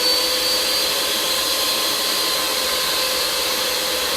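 An electric mixer whisking in a bowl, a loud, steady, continuous motor whir close by with no breaks and no talk.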